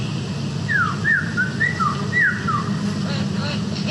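A lyrebird mimicking a human whistle gives a series of clear, sliding whistled notes rising and falling in quick succession, fairly close, over a low steady background rumble.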